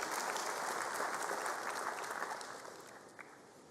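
Applause breaks out from an audience at the 2022 matric results announcement, a dense, steady clapping that fades over a few seconds.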